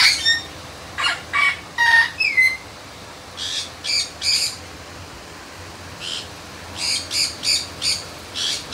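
A cockatoo screeches in short harsh squawks, coming in irregular clusters of two to four with brief pauses between them, moderately near against quiet outdoor background.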